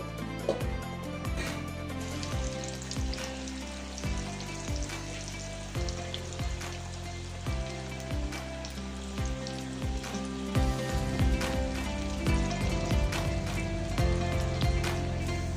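Okra (bhindi) fries in oil in a pan for a chicken dish, a steady close sizzle with crackling pops, broken by occasional stirring clatter.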